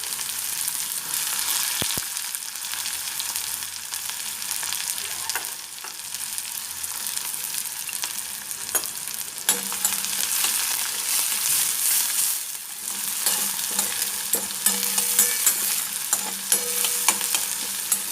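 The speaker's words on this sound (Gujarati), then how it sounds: "જીરું થઈ જાય પછી આપણે જે કાંદા કાપીને રાખેલા છે તે એડ કરી લઈશું" Chopped onions hit hot oil with cumin seeds in a home kitchen pan, giving a steady, close sizzle with occasional stirring scrapes and clinks throughout, no voices.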